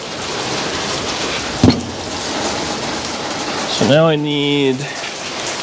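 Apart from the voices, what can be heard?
rain falling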